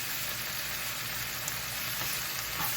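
Food sizzles and fries steadily in a non-stick pan while a metal spatula stirs it, a constant close crackling hiss with faint scraping.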